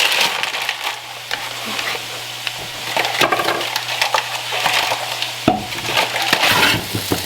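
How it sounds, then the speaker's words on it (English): Potatoes fry in butter in a pan with a steady loud sizzle, while a utensil scrapes and stirs them in repeated crunchy strokes, close up, with a low hum underneath. "These potatoes have been cooking for about 15 minutes. They're not fully cooked through yet, but they have some good crispy bits"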